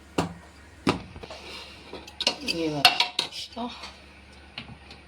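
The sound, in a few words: metal container being placed inside a pressure cooker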